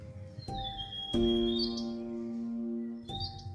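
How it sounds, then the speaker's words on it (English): A few thin, high whistled calls of a white-capped redstart, with sharp chirps and a sustained tone against a quiet outdoor background in high-altitude winter habitat near flowing water. "This is a white-capped redstart, and they are common around flowing water here."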